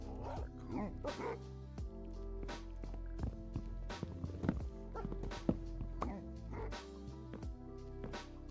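A dog in a video game barks and whimpers in repeated sharp yelps, some of them distressed, close and fairly loud, with a person talking now and then underneath.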